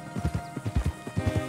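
Horse hooves clip-clopping in a steady galloping rhythm while riding in the video game Red Dead Redemption 2, close and fairly loud over a soft background, lasting only a moment.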